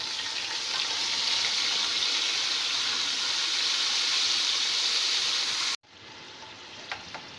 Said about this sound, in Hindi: अब इसमें हम लहसुन अदरक डाल देंगे